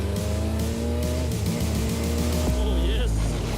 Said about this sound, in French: Au volant d'une machine que j'aime particulièrement, un Porsche 911 Turbo S.